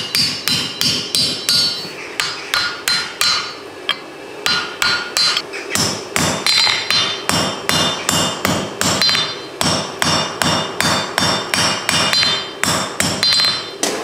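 Hammer blows splitting a rebar end on a cutoff hardy at the forge, sharp ringing metallic strikes in a fast, steady rhythm, loud and close, continuing throughout with brief pauses.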